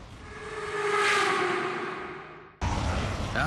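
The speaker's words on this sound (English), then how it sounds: "The train begins to pick up speed." A Shinkansen bullet train's whooshing roar builds and swells as it accelerates, then abruptly drops and shifts to a closer rumbling tone.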